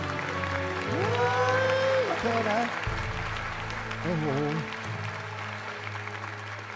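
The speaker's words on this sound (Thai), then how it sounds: "ข อเสียงปรบมือกับคุณพีท" A studio audience on a Thai singing competition show claps steadily beneath a host's voice, with musical tones sounding alongside.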